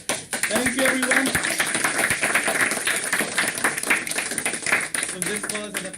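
An audience applauds at a public education event on Indian Ocean tsunami awareness, a dense, steady wash of clapping lasting several seconds, with voices talking over it at the start and end.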